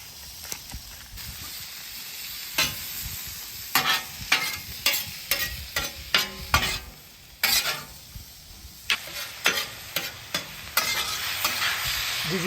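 Onions sizzle on a griddle over a live fire in Santa Maria-style cooking, a steady close hiss broken by repeated scraping, stirring bursts as they are pushed around, with no talking.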